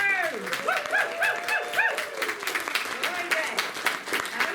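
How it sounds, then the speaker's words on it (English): Applause rings out at a youth short story contest awards ceremony for newly published authors, a scattered crowd clapping under loud whoops and cheering voices, with lively, uneven bursts throughout. "one more huge round of applause for everyone here tonight, all our newly published authors"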